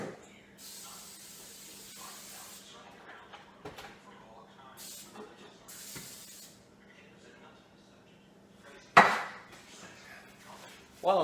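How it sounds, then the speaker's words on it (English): Spray cooking oil misted onto a skillet warming up for low-carb meatballs, a few short hissing bursts spread across the clip, close and moderate, under light kitchen handling sounds. "And I use spray cooking oil"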